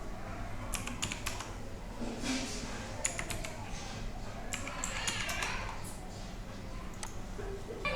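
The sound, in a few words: typing on a computer keyboard to fill an online form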